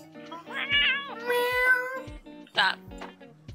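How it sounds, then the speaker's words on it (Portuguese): A pet cat meows several times in a drawn-out, wavering way, the calls rising and falling close by, with a rhythmic electronic game soundtrack pulsing steadily underneath. "a gata dele quer fazer o papel da Mio, deixa ela"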